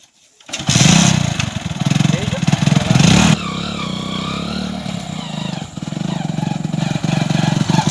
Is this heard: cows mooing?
no